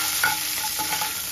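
A tempering of mustard seeds, cumin, chana dal, dried red chillies and curry leaves frying in oil for a brinjal fry gives a dense, continuous sizzling hiss with faint crackles, close and steady throughout.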